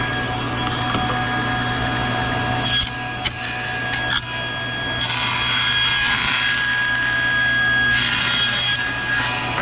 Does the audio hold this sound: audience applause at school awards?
no